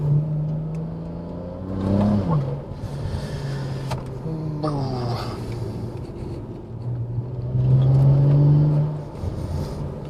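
A BMW 335i with the N54 engine and a limited-slip differential pulls out of a tight corner on a slow road, its engine droning and rising in pitch in two surges, heard from inside the car without talk.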